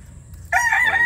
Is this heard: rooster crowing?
yes